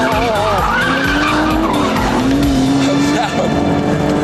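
Tires squeal loudly in a long wavering screech as an Aston Martin DBS slides its rear under hard power, engine roaring close by while an excited voice talks over it.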